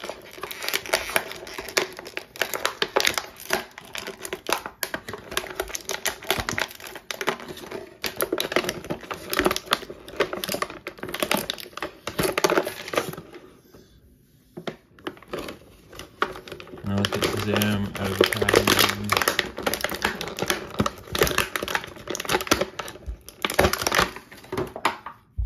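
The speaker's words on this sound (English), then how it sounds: "Let's get this thing out of these accessories out of the packaging." Action figure and accessories pulled from plastic packaging, with sustained crinkling, crackling and crunching of plastic, loud and close, pausing briefly midway before resuming, while a person talks over parts of it.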